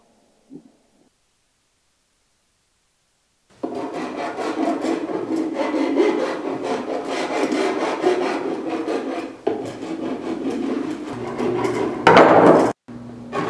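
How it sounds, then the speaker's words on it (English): A hacksaw cuts a plastic flow restrictor in short strokes, a dense, loud rasping that runs steadily after a few seconds of silence and then breaks off near the end. "For a clean, precise cut, use short strokes of the hacksaw and follow the witness line by continuously rotating the flow restrictor."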